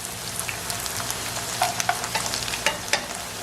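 A vegan grilled cheese sandwich fries in hot oil in a pan, a steady close sizzle with scattered pops and crackles, with no talk over it.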